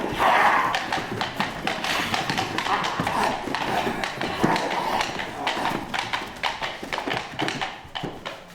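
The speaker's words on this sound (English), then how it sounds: "Each thief mounted his horse and galloped off into the dust." Several horses gallop off over dusty ground, with a steady stream of quick hoofbeats and thuds that stays fairly loud and close for the whole stretch.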